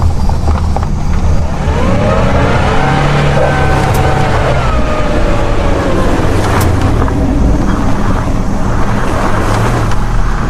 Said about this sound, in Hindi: गाड़ी चलने लगती है।